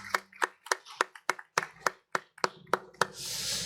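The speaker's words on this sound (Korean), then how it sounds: "우리 하나님께 영광의 박수 올립니다." A church congregation claps in short, sharp bursts of applause, about ten distinct loud cracks in an irregular rhythm, ending in a broader wash of noise.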